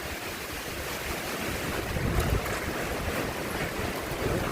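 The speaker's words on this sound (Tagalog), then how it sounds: "Pero ang hangin guys, grabe, nagdahunog, murag na aeroplano." Strong super typhoon wind roars steadily and loudly outdoors, a dense continuous rushing like a distant jet engine, with gusts swelling slightly midway and no voices.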